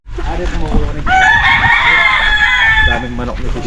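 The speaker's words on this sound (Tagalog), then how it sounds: "Daming manok nito dito." Chickens cluck and a rooster crows loudly, a long bright crow standing out in the middle, on a farm during a tamarind harvest, with voices chatting throughout.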